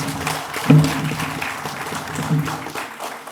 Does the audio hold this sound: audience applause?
yes